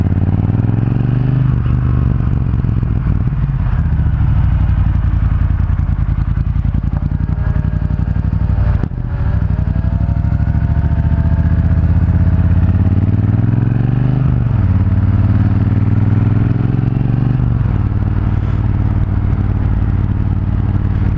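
A motorcycle on a ride gives a loud, continuous engine drone with wind rumble. The revs rise and fall through gear changes.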